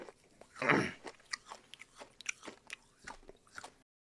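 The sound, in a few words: loud chewing with open mouth into microphone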